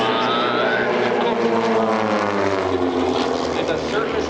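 An RV propeller aircraft performs at an airshow, its engine droning steadily with a Doppler-like pitch sweep as it passes, while a commentator talks over the PA throughout.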